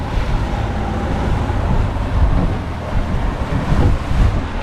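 Steady wind gusting over open water beside a boat during stone crab trap work, a constant broadband rush with low rumbling buffets, loud and continuous with no talking.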